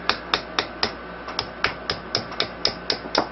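Steady series of about thirteen crisp, close taps as a screwdriver knocks small parts into an airsoft M9 magazine during a repair, evenly spaced with no talking.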